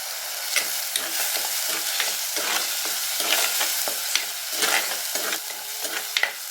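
Curry leaves spluttering in hot oil on a lowered flame for a Tamil karapodi fish curry, a steady dense sizzle with frequent crackling pops and occasional stirring clatter, close and fairly loud, no talking.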